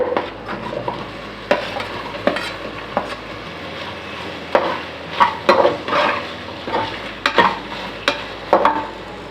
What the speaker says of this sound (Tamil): கேரட்டையும் நெய்யிலே வதக்கி கொடுத்துக்கலாம்.